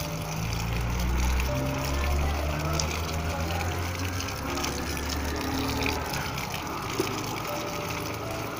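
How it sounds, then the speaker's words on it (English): Fast running water from a tap pours steadily while bitter leaf is washed, a continuous gushing splash with a low pump hum underneath, moderately loud and close, with no voices. "wash the bitter leaf in fast running water"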